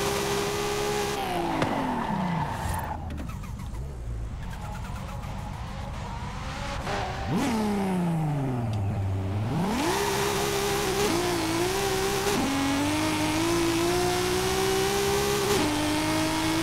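A 1600hp Toyota Supra drag build launches hard in Forza Horizon 5, its engine revving high and dropping through gear changes before climbing again in a long, loud, sustained pull with no talk over it.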